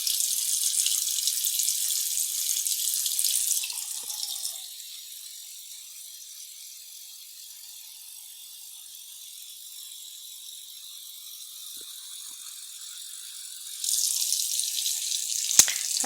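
Water runs from a tap and goes to waste: a bright, hissing stream at the start that stops, then near-silence, then the gushing flow starts again near the end.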